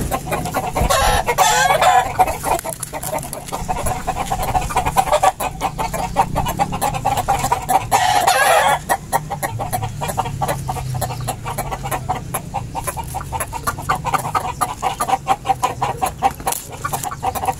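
Chickens cluck and squawk continuously nearby, with a rooster crowing briefly; no talking, just steady fowl chatter throughout.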